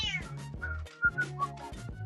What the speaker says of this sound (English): Was that someone's cat again?